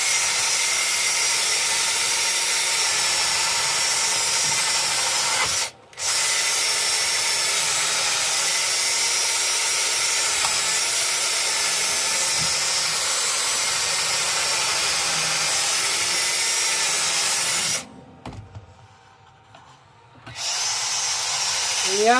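A power sander works an apple wood bowl with a loud, steady whir that cuts out briefly, runs on for a long stretch, then stops for a few seconds before starting again. A voice may speak faintly under the noise.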